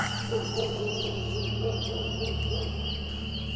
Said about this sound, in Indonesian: ini suara anak ayam